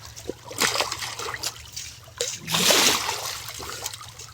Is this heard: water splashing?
yes